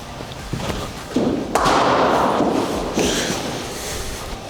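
Cricket bat striking the ball during a batting session with a coach, a sharp solid thud early on followed by a second crack, with faint talk and ambient noise around.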